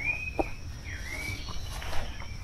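Faint birdsong drifts in from a distance on a mountain trail on Mount Salak, a few thin whistled calls and chirps over a quiet outdoor background.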